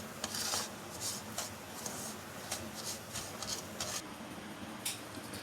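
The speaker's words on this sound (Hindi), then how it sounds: "इसको साथ साथ चलाते जाना है ताकि ये नीचे ना लगे" A spoon scrapes and stirs semolina roasting in a pan, giving repeated soft rasping strokes at an irregular rhythm, quiet and close.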